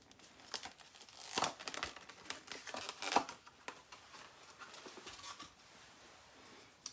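A package of OESD wash-away stabilizer tape being opened, with steady crinkling and tearing of plastic wrap at close range for several seconds, soft and alone without talk.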